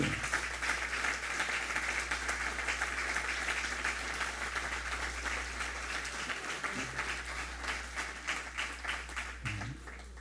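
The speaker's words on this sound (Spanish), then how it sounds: "Den un aplauso al Cristo de la gloria." Congregation applauding during a church service, a dense, sustained burst of clapping that fills the room for the whole stretch and thins slightly toward the end.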